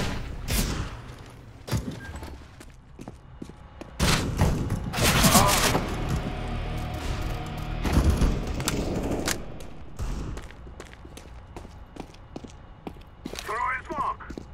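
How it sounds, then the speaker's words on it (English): In the CS:GO video game, a flashbang grenade bursts and gunfire crackles in sharp, loud bangs and clustered rapid shots, with thuds and mechanical clicks between and a voice talking at times. "I'm throwing the flashbang."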